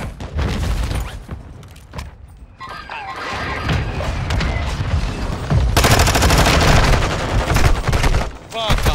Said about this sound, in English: Launch the mortar strike.